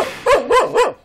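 A roughly two-month-old puppy on a country farm in winter gives three loud, close, high yips in quick succession, each rising then falling in pitch.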